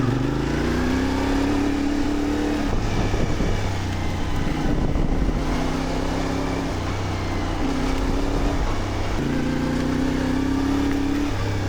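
A CFMOTO 450MT adventure motorcycle pulls away, its engine droning loudly and rising in pitch through several gear changes, with wind rush over the engine.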